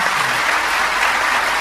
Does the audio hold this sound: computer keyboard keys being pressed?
no